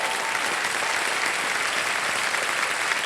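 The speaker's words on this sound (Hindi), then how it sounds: "और एक बार फिर जोरदार तालियां बज जाएं।" A studio audience at the KBC game show gives loud, sustained applause, with thick, steady clapping filling the room from start to finish and no speech on top.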